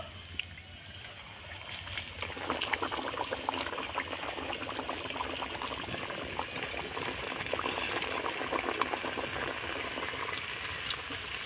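Luchi, a puffed flatbread made with leftover rice, fries in hot oil: after a quieter start the bubbling rises into a dense, steady, close sizzle that keeps going to the end, with no talk.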